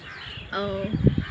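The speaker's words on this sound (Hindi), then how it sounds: "आपको पक्षियों की आवाज़ सुनाई दे रही होगी।" Birds call near a rooftop terrace on a cloudy rainy-season day, with a sustained harmonic call followed by a few loud, close, harsh caw-like bursts, over a low background murmur.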